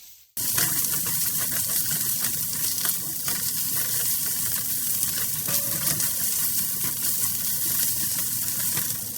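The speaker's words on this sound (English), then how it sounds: "give that a good mix until all of the veggies are nice and coated" Vegetables coated in about two tablespoons of tomato paste are stirred in a pot, giving a steady, close sizzle with soft scraping that runs unbroken for the whole stretch after a brief silent start.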